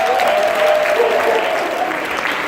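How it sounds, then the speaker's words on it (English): Dense, steady audience applause fills a conference room, loud and sustained throughout with no pauses. "Give her a round of applause."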